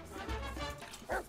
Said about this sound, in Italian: Adesso abbai a sto stronzo di un cane di merda!